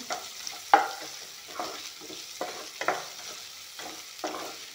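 Panch phoron, onion and ginger frying in a pan for a ghugni, with a soft sizzle under repeated scraping stirs that come in short bursts about every half second, fairly close.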